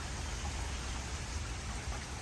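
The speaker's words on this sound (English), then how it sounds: "The steady rain that we've been getting, the steady to heavy rain." Steady to heavy rain falls during a thunderstorm in Columbia, Missouri, a dense even hiss with low rumbling underneath and no voices.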